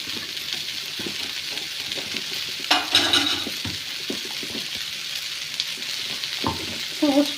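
Steady sizzle of bitter gourd gojju frying in a pan while masala powder is stirred in, with scraping spatula strokes and a few louder clatters, close and continuous with no talk.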